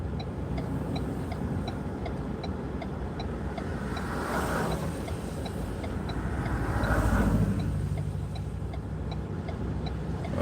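Cars pass on a road during a snow squall, heard from inside a vehicle as a low steady rumble with two swelling whooshes as vehicles go by, while a turn signal ticks evenly throughout.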